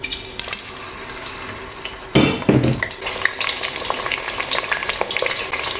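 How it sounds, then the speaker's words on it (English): Chopped onion dropped into hot vegetable oil in a pot for a carrot stew, bursting into a loud, close sizzle that settles into steady crackling frying with light stirring. "So I'll add my onion."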